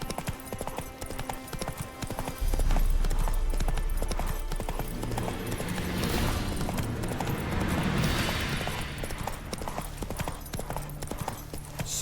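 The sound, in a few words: Roach the horse's hooves clip-clopping, from video game The Witcher 3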